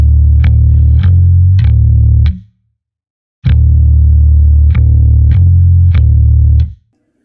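A heavily distorted doom stoner bass riff rumbles loud and close. It plays a group of notes, stops for a short pause, then repeats, with sharp picked attacks over a thick, sustained low tone.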